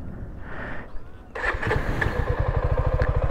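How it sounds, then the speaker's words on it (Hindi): A low engine rumble shifts partway through into a steady, rapid putter of a new Suzuki V-Strom SX 250 motorcycle engine idling, close and even. "ये आपका आइडलिंग आपने इंजन ऑन किया,"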